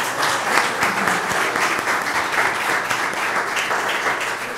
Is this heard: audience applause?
yes